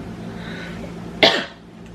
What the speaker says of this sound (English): Doing this on my jaw always makes me cough.